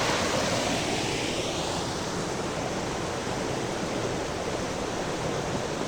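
Steady, loud rush of a waterfall on the river at New Mills in the High Peak, a dense continuous roar of falling water with no voices.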